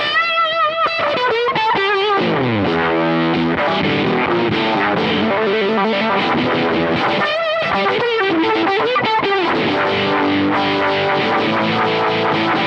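Fuzzy, distorted electric guitar through a fuzz pedal and the Univibe effect of a Wampler Terraform, a swirling, pulsing modulation wobbling the tone as notes and chords ring out loudly.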